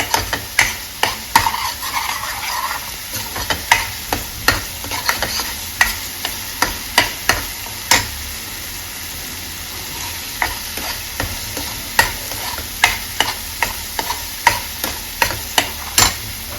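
A spoon stirs dry spices roasting in hot tempering oil for a chana palak dish, giving rhythmic metallic scrapes against the pan about once a second over a continuous loud sizzle.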